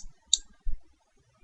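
Two quiet computer mouse clicks while working in PowerWorld power-system software, sharp and close, separated by a short pause in an otherwise silent room.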